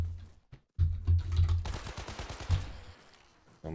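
Video game shotgun, sniper rifle and SMG fire in a wave-based shooter, a tight burst of rapid, punchy shots followed by a few heavier blasts, loud and close.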